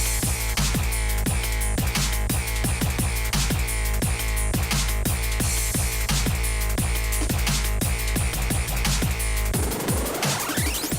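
A turbocharged hillclimb snowmobile engine roars loud and steady at full throttle with a dense, rapidly pulsing drone, then swings into a rising rev sweep near the end.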